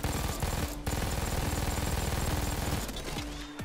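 Sustained automatic machine-gun fire in Payday 2, a loud, rapid, continuous stream of close shots that breaks off briefly once and trails away at the end.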